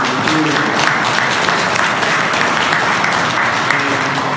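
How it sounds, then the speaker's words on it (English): Town hall audience applauding in a sustained, dense roar of clapping at constant loudness, with a faint murmur of voices mixed underneath. "Let's give her a round of applause."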